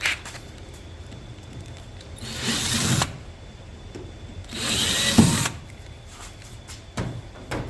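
Two bursts of a power drill with a 1/8-inch bit whirring, each about a second long with a pause between, close by amid quiet workshop handling noises during a boat Bimini top install.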